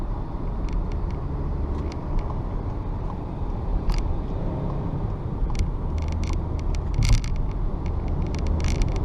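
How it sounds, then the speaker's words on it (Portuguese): 2018 VW Polo 200 TSI Highline with automatic gearbox accelerating up a steep hill, a steady engine and road roar from inside the cabin with scattered clicks and rattles, no talking. "Essa subidona aqui, ó, se acelera, ele começa a ganhar velocidade com uma velocidade muito rápida"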